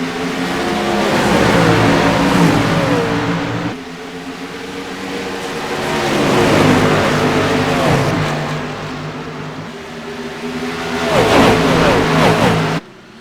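Race cars accelerate at Atlanta Motor Speedway in an ICAR Cup Series race, engines swelling loudly through rising gear pulls in three surges, close and roaring, with faint commentary beneath.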